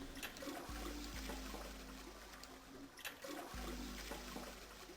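A toilet flushing in the video game Zero Escape: Nine Hours, Nine Persons, Nine Doors, rushing water followed by trickling and refilling, fairly quiet and continuous.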